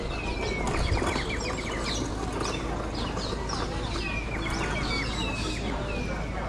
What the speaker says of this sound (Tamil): இங்கே பார்த்தீங்கன்னா நிறையா சின்ன சின்ன பறவைகளுடைய சத்தம்லாம் கேட்குது.